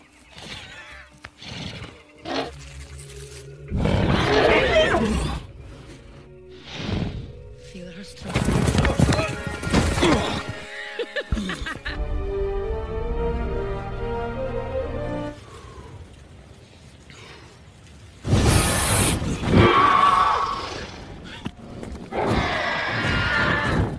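Horses in the film Avatar being ridden: repeated neighs and whinnies with bursts of galloping hooves, loud and close, mixed with a roar-like cry and swelling film score, with voices speaking briefly between bursts.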